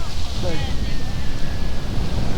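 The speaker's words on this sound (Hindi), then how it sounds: "हवा चल रहा है" Wind gusts on a cloudy beach in Barcelona, buffeting the microphone with a loud, rumbling roar while a person talks over it and surf noise sits in the background.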